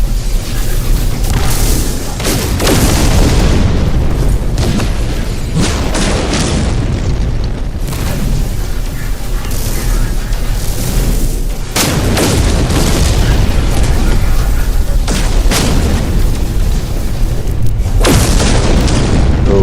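Sustained booming blasts and rumbling explosions from a rocket in No Man's Sky during a space battle near a freighter, loud and continuous with several heavier bursts swelling over the roar.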